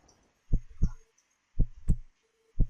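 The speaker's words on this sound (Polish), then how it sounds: "Słuchaj się w bicie serca, to, to coś da" Heartbeat sound effect in the horror video game One Late Night, a close, muffled lub-dub double thump repeating about once a second under faint background hum.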